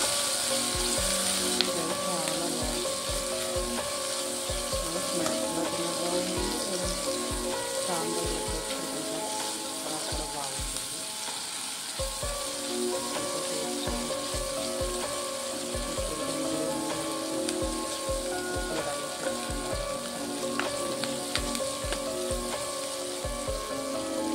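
Mushrooms and onions fry with salt in a pan, giving a steady, dense sizzle and crackle with scraping stirs throughout, close and continuous, with no speech.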